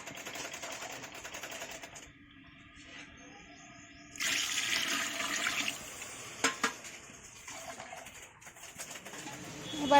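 Water poured into a cooking pot over fried spices, a rushing splashy pour that swells for a couple of seconds amid quieter kitchen clatter and pigeon-like cooing in the background.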